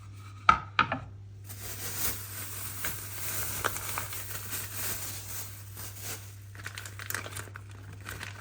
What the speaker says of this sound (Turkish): Hemen önce peynirimi e, doğrayayım güzelce.